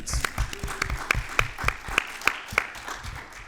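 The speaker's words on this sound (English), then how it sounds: "Round of applause for the people at CrimeCon for putting this on" A small crowd claps and applauds, scattered claps rising to steady applause over a few seconds, with no voices on top.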